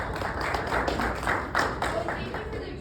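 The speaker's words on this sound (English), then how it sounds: "So can we give a round of applause to them real quick?" A round of applause from a tech talk audience at a startup venue, a moderate patter of many hands clapping steadily throughout, heard from within the room.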